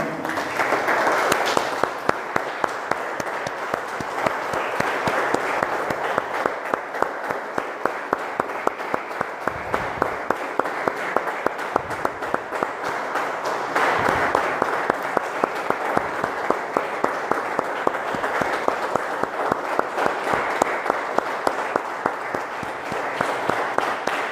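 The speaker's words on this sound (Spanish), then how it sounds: "Y le damos un aplauso, hermanos, al Señor." Church congregation applauding together after a closing prayer, a long, steady wash of many hands clapping at close range with no speech over it.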